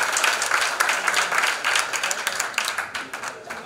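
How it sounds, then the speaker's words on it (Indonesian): Audience applause at a business conference hall in Indonesia, dense steady clapping from a large crowd lasting several seconds with a slight fade near the end. "kita tepuk tangan dulu untuk kita semua biar kita semangat gitu"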